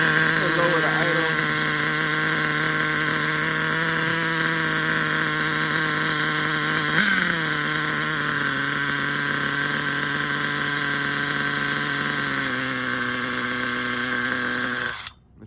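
HPI Savage 25 nitro RC monster truck engine idling steadily, a loud, buzzing two-stroke drone held close throughout, with a brief blip of revs midway and the pitch settling lower near the end before cutting off.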